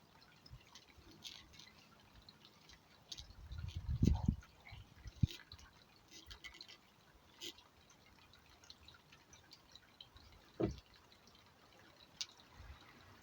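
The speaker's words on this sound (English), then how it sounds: "I'm going to try pouring some water over it to make sure it really is waterproof" Water is poured over a painted piece of wood, giving a short splashing pour followed by sparse, quiet drips scattered over the following seconds, with faint background noise.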